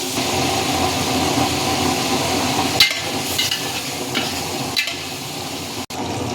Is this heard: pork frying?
yes